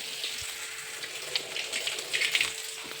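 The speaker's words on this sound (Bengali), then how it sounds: "এবার দিয়ে দিব সামান্য একটু পরিমাণে পেঁয়াজ সামান্য তেলেই দিয়েছি" Onions hiss and crackle as they fry in a small amount of hot oil left from browning potatoes, a steady close sizzle with brief pops and no talk.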